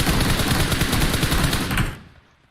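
Automatic gunfire in PUBG Mobile: a loud, close burst of rapid shots lasting about two seconds before cutting off abruptly and fading out, with no talking.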